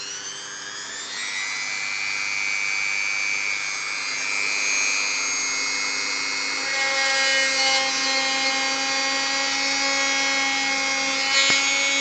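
A rotary tool fitted with a milling bit whines at a steady high pitch while it bores through the plastic of a custom Star Wars Legion AT-ST model. The tone rises and holds, loud and close, with no talk over it.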